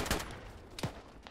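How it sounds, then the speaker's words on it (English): Quiet bursts of gunfire in a military video game: two sharp distant shots or short volleys about 0.7 seconds apart, with a faint third pop at the end, over low background noise. "heavy fire coming in from our southwest"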